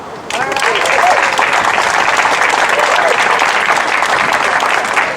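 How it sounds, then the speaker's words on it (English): A large crowd at a PawSox baseball event breaks into loud, sustained applause, steady clapping filling the space from start to finish. "Give yourselves a round of applause."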